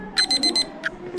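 An alarm clock rings before dawn with rapid electronic beeps in short bursts, four quick pulses, a pause, then more beeps, loud and close.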